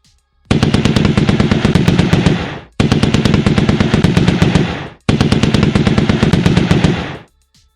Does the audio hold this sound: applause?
no